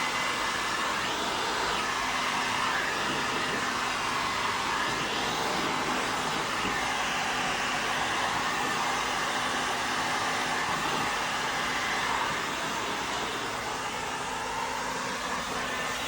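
A heat gun blows hot air over smoke-tinted film on a car headlight, producing a continuous, steady airy roar with a faint hum under it and no talking.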